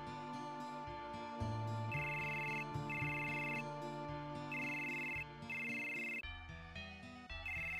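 A cell phone ringtone from Final Fantasy VII plays as a looping synthesized melody with repeated high tones over a low musical accompaniment, continuing for several seconds without any talk.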